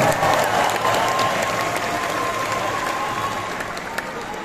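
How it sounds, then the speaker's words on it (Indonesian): A large crowd of volunteers at a rally marking 25 years of reform in Indonesia claps steadily for reform activists, dense continuous applause that fades slightly over time. "Tepuk tangan untuk para pejuang reformasi kita"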